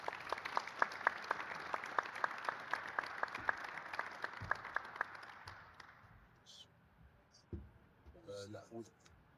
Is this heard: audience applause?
yes